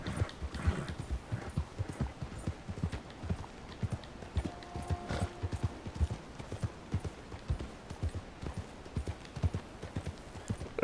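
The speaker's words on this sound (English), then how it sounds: "these are wild horses, yeah." Steady clip-clop of a wild horse's hooves at a walking pace in Red Dead Redemption Online, moderately close, continuing throughout with no voices.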